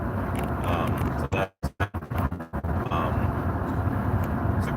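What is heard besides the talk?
driving noise inside an old pickup truck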